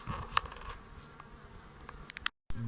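Honeybees buzz around frames of a hive being inspected, the frames full of unripe honey; a steady near drone runs throughout with a few sharp clicks and knocks of handling, and no talk.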